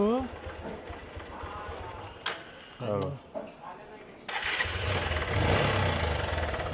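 A damaged motorcycle's engine runs with a rough, steady mechanical noise that rises louder partway through, after voices talking nearby over a low rumble.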